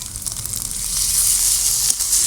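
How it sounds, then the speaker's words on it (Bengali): Garlic paste goes into lightly fried onions in hot oil, and the pan gives a steady, close sizzle that swells slightly as the frying continues, with no talking. "এবার আমি রসুন বাটাটা দিয়ে দেবো।"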